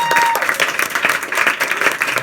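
A stand-up comedy audience in Paris breaks into loud, close applause, thick overlapping clapping with crowd noise that stays strong and rolls on without pause.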